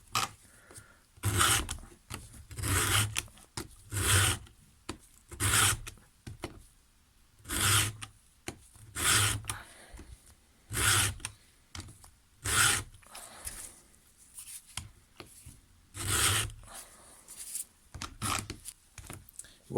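A Stihl 2-in-1 sharpener files the chain of a Makita pruning saw in repeated rasping strokes, each a short burst at an uneven, steady rhythm, close and fairly loud.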